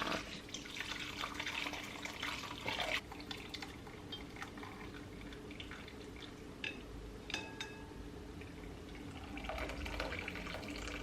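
Hot homemade chicken broth pours and trickles through a strainer in a kitchen, a steady splashing, running-water wash with occasional drips and a few clinks of utensils, close and continuous.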